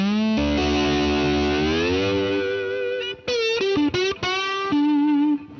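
Electric slide guitar played with a signature glass slide, a sustained distorted note gliding upward, then quick sliding phrases and a held final note, loud and close with no talk.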